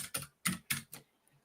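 Keys on a computer keyboard are tapped in a short burst of four clicks, close and distinct, with a faint extra tap after a pause.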